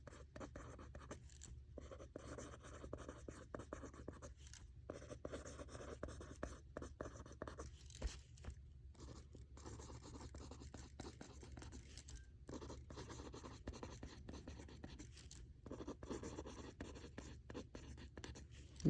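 Pen or marker writing on a board or paper during a Latin lesson on the perfect tense: a steady, quiet scratching that runs continuously for the whole stretch with brief pauses, close to the microphone and with no voice over it.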